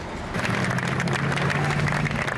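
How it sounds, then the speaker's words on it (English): A crowd cheers and applauds weary rescue workers in New York in the days after the 9/11 attacks, a steady wash of clapping and voices filling the whole stretch at a fairly loud, constant level. "People continue to cheer on the weary rescue workers"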